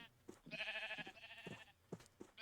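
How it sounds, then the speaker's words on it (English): A sheep in the Minecraft video game gives a loud, drawn-out bleat, followed by a few shorter, fainter bleats. "Sheep being loud."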